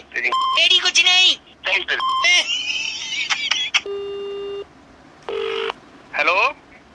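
Telephone dialing tones and electronic beeps sound in quick bursts, with a steady dial tone and ringback-like tones, loud and close, mixed with a few voice-like sounds between them.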